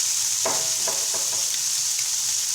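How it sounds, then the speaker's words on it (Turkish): Rice being sautéed in a pan gives a continuous sizzle, with several soft scraping stir strokes spaced through it and no talking. "Bu şekilde kavuracağım"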